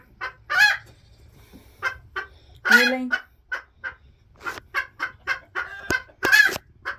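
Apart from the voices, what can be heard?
hen clucking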